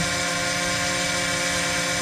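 Steady, loud high-pitched buzzing whine of a drone's small propellers, constant and close with no pauses.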